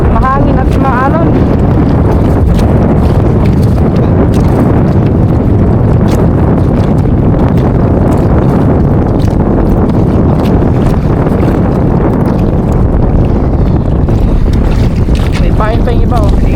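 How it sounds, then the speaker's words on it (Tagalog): Strong wind buffeting the microphone on a fishing boat at sea in rough, choppy water, a loud continuous roar with sloshing waves throughout. "siguro basta mahangin at maalon."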